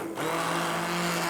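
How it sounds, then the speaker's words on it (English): An immersion blender purees vichyssoise soup, kicking on abruptly into a loud, steady motor whir that churns on without pause. "So I am going to take this blender"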